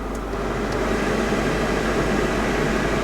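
The air conditioner of a CEVO-C small electric car runs steadily and loudly inside the cabin, giving a broad, even whooshing roar with no variation and no voices.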